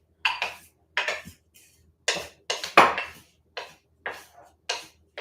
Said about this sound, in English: now we take our spoon and we just stir it all together so it's nicely mixed when we put it on the meat